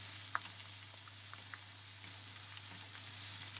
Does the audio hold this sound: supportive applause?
no